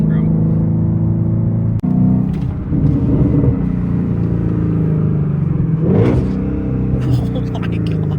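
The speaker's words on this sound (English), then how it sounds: "Pretty sharp downshifts." A 2017 Shelby GT350's engine rumbles and rises in bursts of revs with sharp downshifts while driving on a road, heard from inside the car with someone talking over it.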